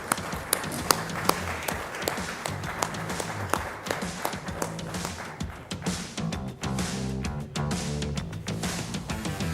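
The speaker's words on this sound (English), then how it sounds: "Another round of applause, ladies and gentlemen, for what is a significant collaboration." An audience at the GreenRev 2025 event celebrating India's green fuel revolution breaks into loud, sustained applause, sharp individual claps standing out at first over a denser wash, with music playing underneath.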